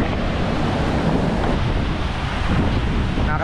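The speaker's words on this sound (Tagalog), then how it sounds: "Parang may kasamang demonyo yung alon pag humampas" Heavy sea surf pounds continuously near a shore, dense and rumbling, with wind buffeting the microphone throughout and no voices.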